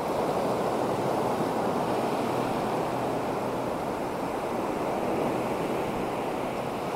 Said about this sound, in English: Waves are coming up.